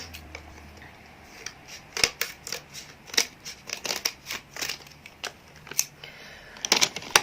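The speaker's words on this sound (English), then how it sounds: "I'm going to need scissors." Scissors snip through makeup packaging in a quick, irregular series of crisp, close cuts, with short pauses between bursts and no talking.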